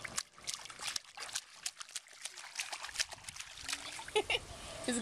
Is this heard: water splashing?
yes